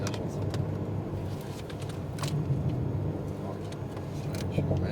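An Alpine A110R on a racing circuit at Lohéac, its engine a low steady drone from inside the cabin as the car accelerates, with people talking over it.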